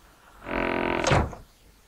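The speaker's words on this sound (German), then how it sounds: "Mach nochmal die Tür zu." A door swings shut in the point-and-click adventure The Whispered World, with a brief creaking sweep ending in a single solid thunk, close and clear on its own.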